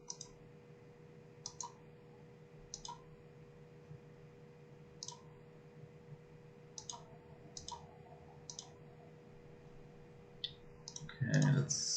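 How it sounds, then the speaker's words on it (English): Sharp, isolated mouse clicks come at irregular intervals over a low steady hum while someone works in OptiTrack motion capture software, and a brief louder rustle follows at the end. "What we can do is just click here on these little 3 dots of our take."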